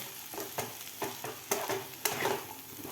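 Bottle gourd curry is stirred in a pan after coarse roasted peanut powder is added, giving a run of scraping strokes at a steady rhythm over a soft sizzle, close and clear with no talking.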